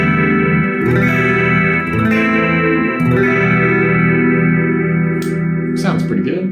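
Steinberger Spirit GT Pro Deluxe headless six-string guitar played through a Spark 40 amp on a clean-ish preset, ringing chords and picked notes with a touch of effects shimmer, sustained and close, with no voices.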